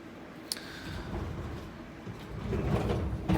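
Drawer gliding on 22-inch deep drawer glides in an amp rack, a smooth rolling slide with a sharp click at the start and a bump as it stops, close and quiet.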